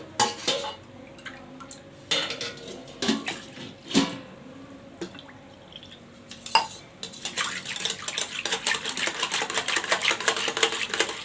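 Curd being beaten with water in a vessel to make buttermilk, a steady clattering, sloshing whisking that starts in short bursts and grows into continuous rapid churning, close and fairly loud.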